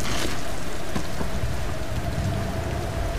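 Heavy rain pours steadily in the video game Tomb Raider, a dense, continuous hiss of drops striking surfaces with a few faint distant rumbles, loud and enveloping with no voices.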